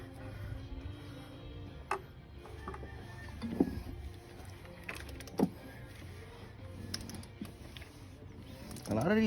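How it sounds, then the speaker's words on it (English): A ratchet tightens the AC compressor bolts on a Volvo S60, giving faint, irregular clicking and ticking in short bursts with a few louder metallic clanks and some low background noise. "Now we're gonna tighten that two bottom bolts from the AC compressor that we loosened earlier."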